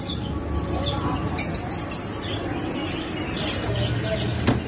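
Ornamental pigeons for sale at the old Diyala Bridge market in Baghdad, with soft coos and scattered chirps over a background murmur of market noise and talk.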